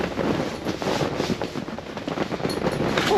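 Strong wind gusts across a frozen lake during ice fishing in southern Wisconsin, a loud, continuous rushing roar buffeting the microphone with uneven surges.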